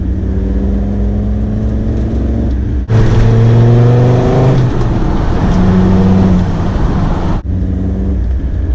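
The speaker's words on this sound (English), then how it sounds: "have a 5-cylinder diesel under the bonnet" A Land Rover Defender Td5's five-cylinder diesel engine drones loudly up close, then revs harder with a rising pitch before easing back, as if heard from inside the vehicle.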